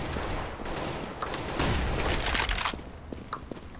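Rapid gunfire from the video game Counter-Strike: Global Offensive, with Beretta pistols in use, crackles in dense, overlapping bursts that swell around the middle and then thin out to a few scattered shots, with no talking.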